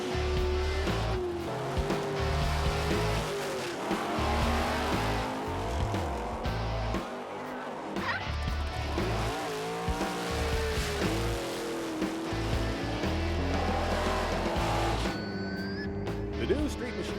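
Race cars racing at the Street Machine Nationals, a Midwest hot rod and street machine event, with loud continuous engine roar and passing cars, tire noise throughout, under a crowd or announcer voice.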